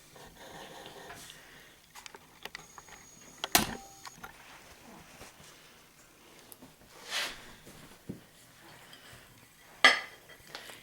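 A pan and utensils clink and scrape quietly while a frittata, an Italian omelet, is flipped on a stovetop. A few sharp metallic knocks stand out among soft scraping and handling noise.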